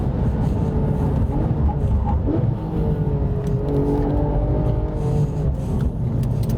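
Mercedes-AMG GT S or Porsche 911 GT3 accelerating hard on grippy Michelin tyres, a loud, close engine roar with steadily climbing tones that holds for several seconds.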